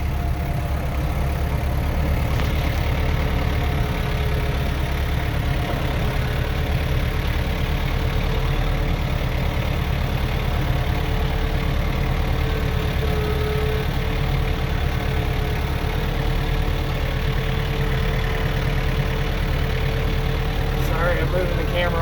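A car engine idles steadily as it backs up a snowy driveway during a blizzard, a constant low rumble close by with no break.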